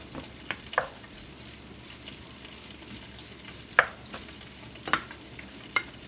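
Seasoned minced meat cooking in a pan gives off a faint, even sizzle, with a handful of crisp, scattered scrapes from a utensil stirring it, heard up close and alone.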